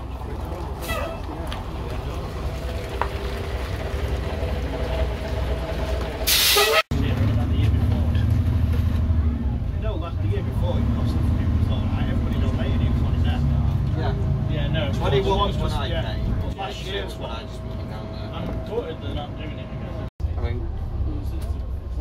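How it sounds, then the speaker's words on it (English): A Dennis Dominator 2120 double-decker bus runs with a steady low engine rumble during a ride at a South Yorkshire transport open day, with a sharp hiss near the middle that may be the air brake and people talking aboard. "we're going to go for a little ride out in a bus in the form of Dennis Dominator 2120"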